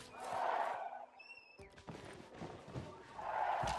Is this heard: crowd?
yes